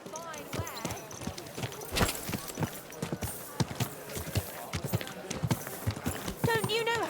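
Horse hooves in Kingdom Come Deliverance 2 clop steadily at a brisk walk on hard ground, close and continuous, while voices talk over them.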